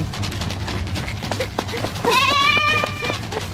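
A goat bleats once, a wavering, quavering call that rises over steady outdoor background noise and lasts about a second.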